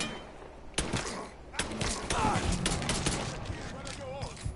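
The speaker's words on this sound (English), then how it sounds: "I won't stop shooting!" Gunfire crackles through a shootout in the video game Mafia 3: scattered loud shots and thuds punctuate a few seconds of action, with voices talking over parts of it.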